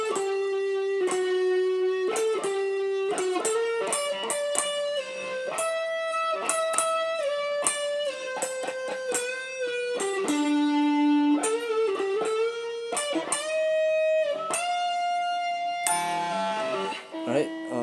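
Distorted electric guitar plays the second ending of the second solo from a song, a fast, continuous run of bright sustained notes and quick licks, loud and alone without talking.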